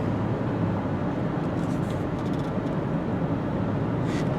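A gray 2004 Cadillac DeVille sedan cruising on a highway, heard from inside as a steady, smooth low road rumble and broadband tire noise with no knocks or bangs, constant and moderately loud throughout.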